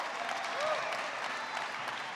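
Sustained applause from an audience at the Richmond State of the City 2023 address, honoring city council members. The soft, even wash of clapping sounds somewhat distant and never rises or falls much.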